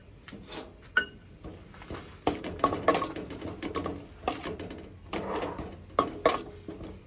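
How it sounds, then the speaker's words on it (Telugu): Poppy seeds roast in a pan with an irregular run of clicks and light scraping clatter as they are stirred, close and fairly quiet, with no talking. "ఇప్పుడు గసగసాలు ఫ్రై చేసుకుంటుండా"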